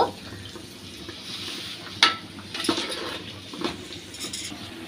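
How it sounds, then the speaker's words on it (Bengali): A spoon scrapes and clinks in a pan, stirring and turning a fry of snake gourd and chopped fried egg, with a few sharp metallic taps over a low background hum and no talking. "এবার একটু উল্টাই পাল্টাই নেড়ে দেব"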